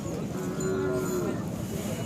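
A Khillar cow at the Sangola cattle market gives one long, steady moo lasting about a second, set against a constant murmur of market crowd noise.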